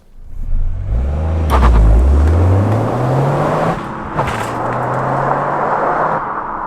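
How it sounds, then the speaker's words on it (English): A Toyota GR Yaris accelerates along a bumpy, slightly damp country B road, its engine note climbing steeply, easing at a gear change, then rising again over steady road rumble, loud and close from inside. "So we're out in the Yaris in its natural habitat, which is a nice bumpy B road"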